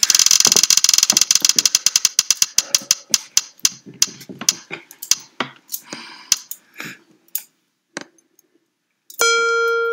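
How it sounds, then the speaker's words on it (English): A prize wheel spins with a rapid ratcheting clatter that gradually slows into sparse, widely spaced clicks until it stops, followed by a short bright tone at the end. "Let's spin the wheel."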